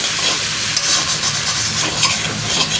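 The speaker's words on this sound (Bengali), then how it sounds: "এবার আমি সুন্দর করে একটু কষিয়ে নেব" Spices and food sautéed in a pan for a Bengali winter spinach dish, a constant loud close sizzle with faint stirring scrapes throughout.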